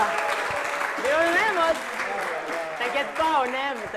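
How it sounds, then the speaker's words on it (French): Steady applause from an audience fills the whole stretch, with voices talking and exclaiming over it throughout. "on applaudit quand même"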